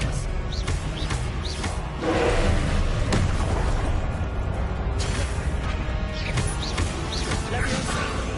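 Spell-combat effects from Hogwarts Legacy, including a disarming spell: repeated crashes, bursts and booming impacts over dense, continuous game sound, with a voice calling out over the action.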